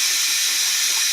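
Tap water runs into a small pint jar in a kitchen as a steady, close, hissing rush with no pause over about a second.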